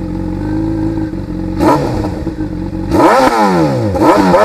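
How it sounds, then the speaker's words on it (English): A motorcycle engine switched on with its electric starter runs close and loud, idling steadily before two quick revs that rise and fall in pitch. "Now on the ignition and then click the electric starter and"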